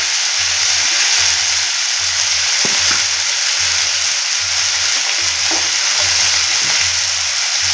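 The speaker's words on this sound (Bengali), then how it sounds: "এখন আমি নাড়াচাড়া করে এই মশলাটা খুব ভালো করে একটা পুরে পরিণত করে নেব" Turmeric and spice masala fries loudly in a pan for stuffed kakrol, a dense continuous sizzle close up, with soft rhythmic stirring bumps repeating underneath.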